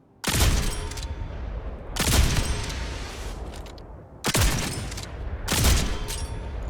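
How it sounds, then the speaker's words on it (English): A marksman's rifle in the space co-op game Jump Ship fires four heavy, booming single shots spaced about two seconds apart, each with a long rumbling tail, loud and close. "Ah, this must be like a marksman's rifle."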